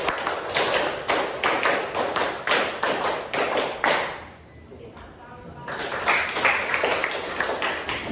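Workshop participants clap together in brisk rhythmic sets, a long run of crisp unison claps, then a short lull, then another round of claps, close and lively.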